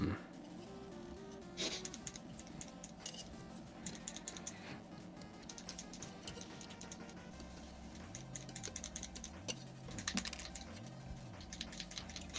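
Light, irregular dabbing and tapping of a paintbrush on tabletop miniatures for a WWII tank skirmish game, soft close clicks in quick clusters over a quiet room hum and faint background chatter.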